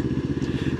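A Moto Morini Calibro motorcycle engine, heard close and loud as a rapid, throbbing low pulse, steady throughout the brief burst.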